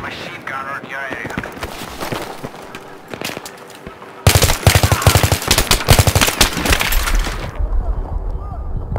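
Machine gun fire in the Battlefield 3 multiplayer game on the Damavand Peak map, loud rapid bursts of automatic shots cracking close, mixed with other game sounds and brief in-game voice callouts.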